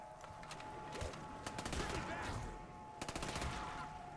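A Mac 11 submachine gun in Black Ops custom zombies on the Kowloon map, firing in two quick bursts of rapid shots over continuous game noise, with voices in the mix.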